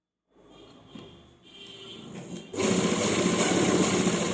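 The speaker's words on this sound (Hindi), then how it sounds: "इसे हमने खींचना नहीं है, ढीला छोड़कर ही सिलाई लगानी है।" A sewing machine stitches salwar fabric, starting with a soft, uneven whir of slow stitching, then ramping into a loud, steady high-speed motor drone up close, with no talking.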